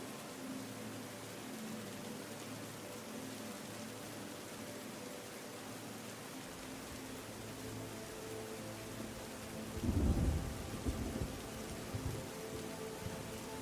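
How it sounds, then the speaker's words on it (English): Light rain pattering on rocks in a forest, a soft steady hiss of drops with a low rumble building briefly near the end, no talking. "Can you hear the light patter as the rain hits the rocks?"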